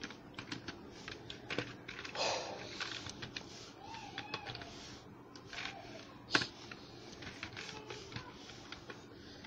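Keys clatter on a computer keyboard as HTML code is typed, a quiet, irregular run of light taps spread across the clip with one sharper click, no voices over it.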